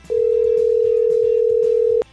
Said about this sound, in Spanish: Vamos a llamarla por teléfono para que nos cuente.